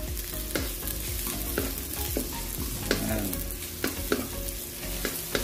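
Onions fry in a pan for fish with oyster sauce, a continuous close sizzle broken by frequent spatula scrapes and clicks as they are stirred.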